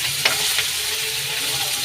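Green chicken fry sizzles and crackles steadily in hot oil in a pan, a continuous bright hiss with a couple of brief stirring scrapes near the start.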